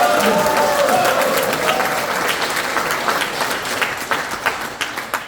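Loud, sustained applause from a seated audience at an anniversary ceremony in a National Assembly members' hall conference room, honoring chairman Lee Do-gyeom. Dense clapping fills the whole stretch, thinning slightly into scattered claps near the end.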